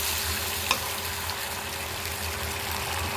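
Fish frying in a pan for a Thai-style basil fish curry, a steady close sizzle and bubbling hiss that holds level throughout, with one brief tap near the start.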